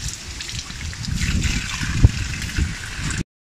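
Fresh water trickles and gurgles steadily close by, flowing beside the sea at Hinugtan Beach in Aklan, with a small splash partway through, then cuts off abruptly.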